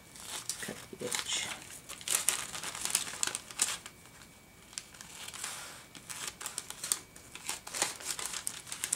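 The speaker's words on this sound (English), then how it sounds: "This side's crooked, so I'm just gonna cut the edge." Scissors cut along the crooked edge of paper, producing a series of close crinkling snips and rustles with brief pauses between cuts.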